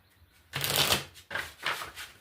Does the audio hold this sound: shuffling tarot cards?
yes